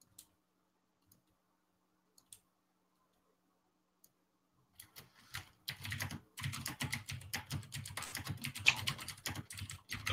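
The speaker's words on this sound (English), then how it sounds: "Open mic, whoever's typing." Typing on a computer keyboard over an open voice-chat mic during a raid: a few isolated clicks, then a fast, dense clatter of keystrokes building up close and clear.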